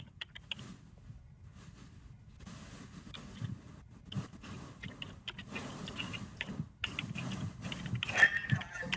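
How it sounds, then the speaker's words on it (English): A command is typed on a computer keyboard, producing sparse clicks at first and then denser, irregular keystrokes that grow slightly louder toward the end, close and without talk. "Let's say I was going to type in configure terminal,"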